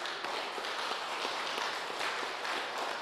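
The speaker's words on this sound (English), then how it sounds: "give you guys yourself a round of applause" Steady applause from a crowd fills the room at a senate resolution presentation, a dense wash of clapping that stays even throughout.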